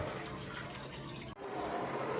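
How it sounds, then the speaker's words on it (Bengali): A little water is poured into a pan of spiced curry for jackfruit kofta, giving a steady close splashing pour that cuts off sharply partway through and is followed by a softer simmering hiss. "অল্প করে জল দিয়ে দেবো।"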